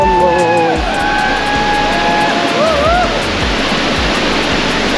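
A mountain stream on the trail from Chhimti to Panchpokhari rushes loudly in a dense, constant roar, with a voice briefly audible over it and some sliding whistled tones early on.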